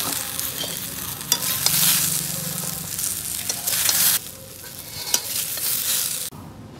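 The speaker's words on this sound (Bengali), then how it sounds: "ওর সাথে আমি এই যে ডাঁটাগুলো একটু জাস্ট ভেজে নেবো, ডাঁটা আর মটরশুঁটি আছে।" Vegetable stems and green peas frying in oil for a Bengali shukto, a loud, continuous hissing sizzle with repeated stirring scrapes, swelling and easing before cutting off abruptly near the end.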